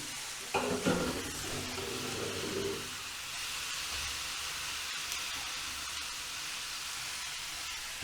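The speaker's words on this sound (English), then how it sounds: "Garlic is in the pan, and now I'm adding some shrimp." Shrimp and garlic sizzle and hiss steadily in a hot pan, with a brief clatter of stirring at the start, then a constant frying crackle.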